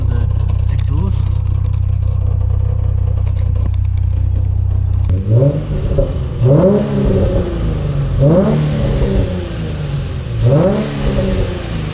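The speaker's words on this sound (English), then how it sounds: "obviously the sound of the car is coming from the exhaust." A salvaged Nissan 350Z sports car accelerates, its exhaust note rising in repeated revving sweeps through the gears after a steady low idle-like drone, loud and close from inside the cabin.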